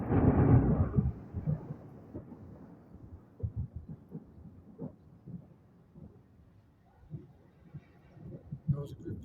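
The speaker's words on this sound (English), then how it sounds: "That was a good thunderclap." A deep thunderclap booms loudly at the start of a thunderstorm, then rolls away into a long, low, uneven rumble with scattered crackling pulses that fade and swell again, heard from a front porch.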